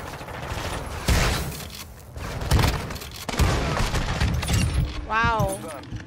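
Shotgun blasts in Call of Duty: Modern Warfare II, a few heavy booming shots spaced out over the stretch, with sharp transients over a busy game mix and a person talking.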